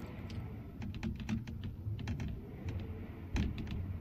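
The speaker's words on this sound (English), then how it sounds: "Is that the keyboard of the devil?" Rapid, uneven clicking of computer keyboard keys in a video game, quiet and continuous, with a few louder taps near the end.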